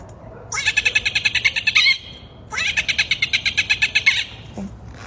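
A person vocally imitates a cockatoo, producing two long, harsh, rapidly pulsing screeches separated by a brief pause. The squawks are loud and close, sounding raspy and bird-like, with no talking over them.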